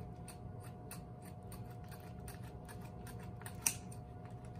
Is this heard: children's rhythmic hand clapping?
no